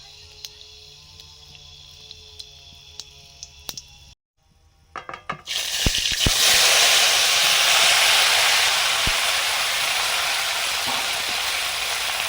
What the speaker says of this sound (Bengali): সর্ষের তেল দিয়ে 5 ফোড়ন দিলাম